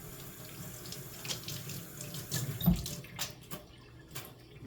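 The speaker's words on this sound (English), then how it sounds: "Let me rinse my hands for a sec." Tap water runs steadily into a sink as hands are rinsed during soup cooking, the rushing stream splashing at moderate loudness with a few brief louder spatters, no talking.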